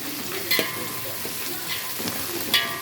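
Onions and spices stirred in a hot frying pan make a continuous low sizzle, with a few brief scraping clicks of the spoon against the pan, heard up close.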